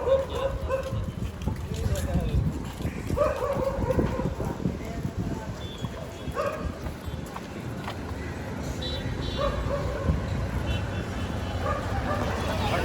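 A five-year-old Boxer dog barks in short bursts during an off-leash training session, with people talking and moving around it and hoof-like clopping sounds mixed in.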